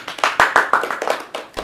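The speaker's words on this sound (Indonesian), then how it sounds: "Tepuk tangan dulu dong." A small group claps hands at a youth pageant-style gathering in Lampung, giving about ten sharp, uneven claps close by, with no voices over them.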